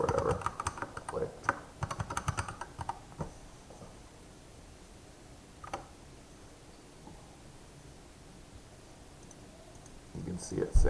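A computer mouse button clicks in quick clusters for the first few seconds, then only a few scattered clicks follow over a faint, quiet background.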